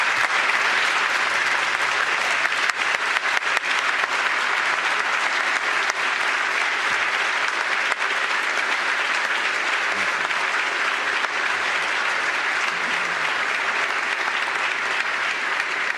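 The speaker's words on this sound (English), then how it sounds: "Please join me in applauding her years of service to this state." Sustained, dense applause from a large audience at the Maryland State of the State address, steady and loud for the full stretch without letting up.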